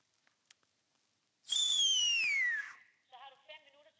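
A person on a ghost hunt at Vendelbohus gives one long, clear, downward-sliding whistle after faint taps, followed by softer warbling tones.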